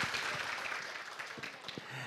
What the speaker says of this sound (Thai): ขอเสียงปรบมือดังๆอีกหนึ่งครั้งได้ไหมครับ